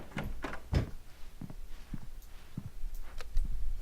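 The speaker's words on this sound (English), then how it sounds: "No, don't hold the door open for me." A door opens in a cutscene from the Alan Wake video game, a series of soft clicks, thunks and scraping knocks spread over a few seconds, close and moderately loud with no talk.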